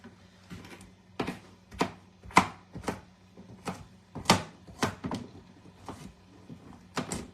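A knife chops through something firm on a cutting board, about a dozen crisp knocks at an uneven, unhurried pace, close by.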